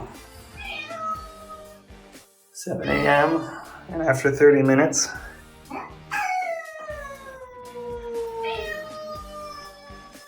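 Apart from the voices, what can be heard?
cats meowing unhappily, locked away during house move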